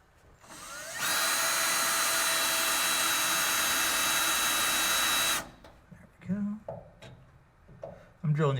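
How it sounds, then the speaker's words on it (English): A drill bores steadily through the sheet metal of a 1967 Kaiser Jeep M715 cab floorboard for several seconds, a loud high whine, then cuts off, followed by quieter clunks and a few spoken words. "drilling these about halfway through the material"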